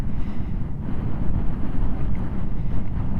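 Loud, constant wind on a mountain pass buffeting a motorcycle rider's microphone, a deep roaring rumble with gusty surges and no voices.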